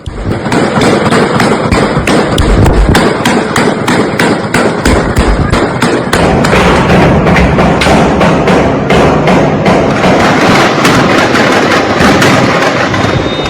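Rapid bursts of gunfire from drug cartel supporters, sharp loud cracks in quick irregular succession, continuing almost without a break amid general street noise.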